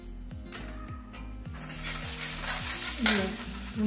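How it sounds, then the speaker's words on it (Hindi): Garam masala spice mix being fried and stirred in a pan, a steady close sizzle with repeated scraping strokes of a spoon against the metal, no one talking. "अभी भूनेगा मसाला, तब तक ये थोड़ा गरम मसाला डाल दे रहे हैं इसमें"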